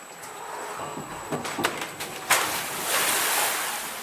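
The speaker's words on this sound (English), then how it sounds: "Sploosh! Wet already." Water splashes and surf wash over an open boat on a wet ride near Rotorua, a sharp splash burst midway rising into a sustained rushing spray with wind noise, fairly loud and close, no talking.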